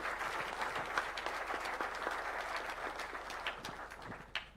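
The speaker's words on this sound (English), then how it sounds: "Please, let's put our hands together for a round of applause." Audience applause for a panel at a formal event addressed by President Ruto, a dense, steady wash of many hands clapping throughout, with a few sharper claps standing out near the end.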